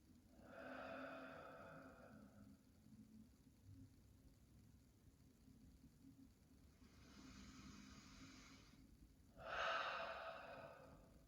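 Slow, deep breaths taken while lying down to relax, soft airy inhales and exhales with long pauses between them, faint and close in a quiet room.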